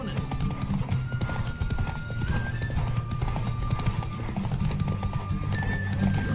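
In a Witcher 3 Wild Hunt video game race, a galloping horse keeps up a continuous rapid clip-clop of hooves over game music, and the horse neighs once along the way.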